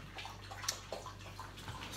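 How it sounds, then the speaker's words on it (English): A dog lapping a drink of water indoors, with wet splashy slurps and small gurgles against a low steady hum, fairly close. "Excuse that noise, dogs just had a good drink of water."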